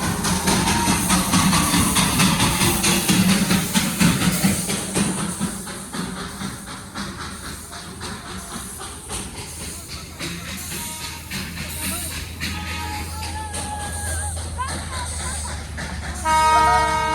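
The Darjeeling toy train comes in past roadside shops, a loud steady rumble and hiss of the engine filling the air, followed near the end by short whistle toots.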